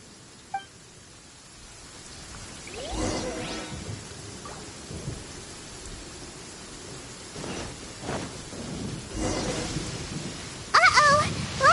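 Thunder rumbles through a steady wash of rain during a lightning storm in the video game Genshin Impact, with crackling bursts rising over continuous noise and a brief sharp sound near the end.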